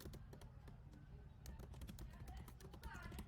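Rapid keystrokes on a computer keyboard while an SQL modify command is entered, a steady stream of light clicks over a low background hum with faint talk.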